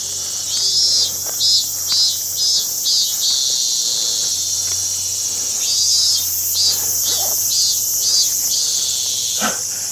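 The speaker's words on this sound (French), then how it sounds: "Le bruit des cigales m'a frappé." Summer insects buzz in Japan, a high shrill chorus pulsing in rhythmic bursts of several beats at a time, with a faint dog bark and a low steady hum in the background.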